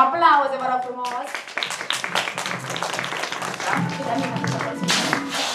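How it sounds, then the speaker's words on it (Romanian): Audience applause for a storyteller receiving a diploma at a children's storytelling event, a dense spread of claps running under and between a presenter's spoken announcement. "Aplauze, vă rog frumos!"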